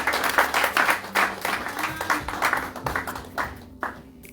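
A church congregation applauds at a worship service, steady rhythmic clapping with the crowd's voices mixed in, moderately loud and thinning toward the end.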